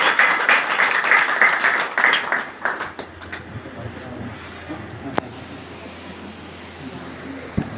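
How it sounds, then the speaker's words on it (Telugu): A church congregation claps, dense and loud at first, then thins out and fades within about three seconds into quiet room tone with a sharp knock. "గట్టిగా మరొకసారి చప్పట్లు కొడుతూ తెలియచేద్దాం"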